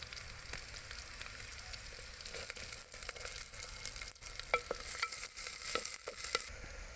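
Chopped green chillies and onion fry in a clay pot for Maggi, a soft continuous sizzle broken by repeated scraping stirs and taps of the spoon, heard close and fairly faint.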